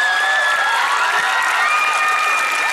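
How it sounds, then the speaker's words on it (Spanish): Audience applause at an inter-school theatre presentation: a dense, loud wash of clapping with shouting and cheering voices mixed in, sustained without a break. "Fuerte, fuerte, son aplausos."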